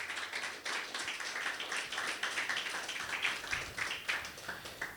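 A church congregation applauding during a sermon, dense steady clapping from many hands that carries on for several seconds with little talk over it.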